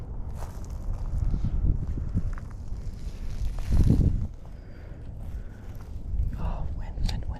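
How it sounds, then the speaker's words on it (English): Wind gusts outdoors beside a roadside ditch while fishing for koi, a steady low rumbling buffet on the microphone that swells loudest around the middle before easing back. "Oh, wind."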